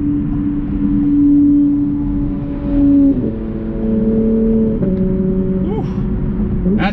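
A Porsche GT2 engine accelerates nearby, with a steady tone that steps up in pitch through several gear shifts, loud and sustained over roughly seven seconds.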